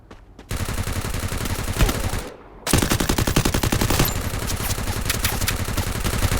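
Rapid automatic gunfire from a mobile shooter game played on an OPPO A17 phone, loud sustained bursts of shots with a short pause in between, no talk.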